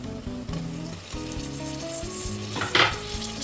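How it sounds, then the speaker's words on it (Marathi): Onion and tomatoes sauté in a pan over medium heat, a soft sizzle beneath close clinks and scrapes of a spoon, with one sharper clatter near the end and no one speaking. "हे टोमॅटो देखील आपण आता परतून घेऊया"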